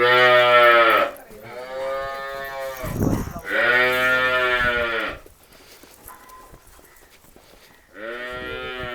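Cattle and buffaloes moo loudly and close by at a village livestock sale in Tarn Taran, Punjab, with a calf nearby; several long, deep, drawn-out calls with short pauses and a quieter stretch before the last.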